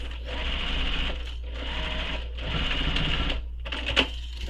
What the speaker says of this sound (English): This time I'm sewing looking at the back.